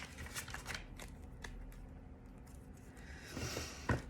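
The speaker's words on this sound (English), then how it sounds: "I will pull some clarifiers as I sit with these initial cards." Tarot cards being handled and drawn from a deck, soft close shuffling and sliding taps in short bursts, then a quieter stretch and a final brushing flurry.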